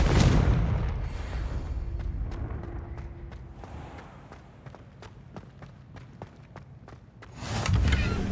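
Confringo fire spell in Hogwarts Legacy bursting with a loud booming blast at the start, then a run of sharp crackling impacts, ending in another heavy rumbling burst.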